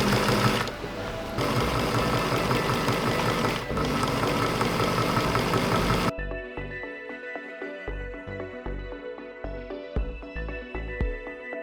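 A sewing machine bastes a zipper into a skirt, running in a close, steady mechanical whir before settling into a rhythmic chugging of separate stitches in short bursts.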